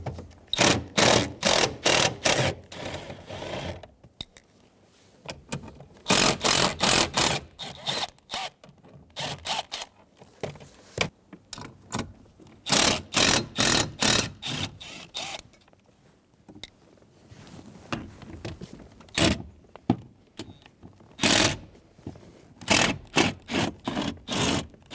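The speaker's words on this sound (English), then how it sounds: "Using an 8mm socket, remove the 4 bolts for this lower kick plate." An 8mm socket wrench works the bolts out of the lower kick plate on a 2000–2007 Ford Focus, producing bursts of rapid ratcheting clicks split by pauses, close and loud with no talking.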